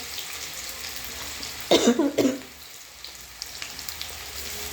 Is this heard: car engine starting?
no